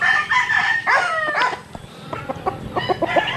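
A rooster crows nearby, a drawn-out call that trails off, followed by softer clucks and scratchy rustling, from a young untested gamecock.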